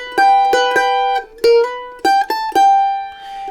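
Mandolin plays the opening phrase of Paddy on the Turnpike around a G double stop, a quick run of bright plucked notes and double stops ending on a ringing held note, close and clear with no talking.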